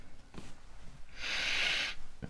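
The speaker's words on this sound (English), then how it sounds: "let's start first with a sniff test." A close, steady sniff lasting under a second as someone smells a fresh deck of poker cards, a single drawn-in breath through the nose in a quiet room with faint rustles around it.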